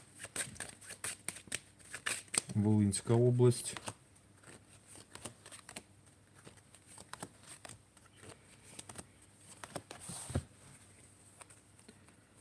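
Playing cards are handled and flicked with soft, quick rustling taps throughout, while someone speaks briefly in the middle.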